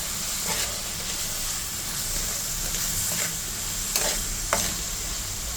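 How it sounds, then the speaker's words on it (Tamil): Food frying in oil in a pan, a steady close sizzle with a few louder stirring scrapes and crackles, no one talking. "ஃப்ரை பண்ணிவிட்டு நம்ம அதில் வந்துட்டு நல்லா ஃப்ரை பண்ணுங்க."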